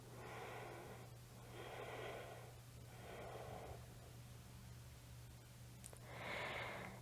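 Slow breathing during three-part breathwork, four soft airy breaths drawn in and let out at an even pace, close and quiet over a low steady hum.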